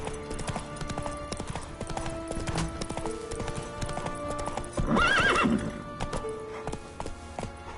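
Hoofbeats of the horse Roach in The Witcher 3 clip-clop steadily at a gallop, with a loud neigh rising midway over the continuous rhythm.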